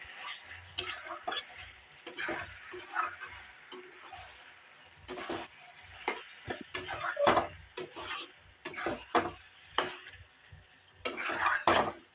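A chili mixture frying in oil in a pan while being stirred, with scattered scraping and clinking of a utensil against the pan over a soft sizzle, in irregular bursts across several seconds.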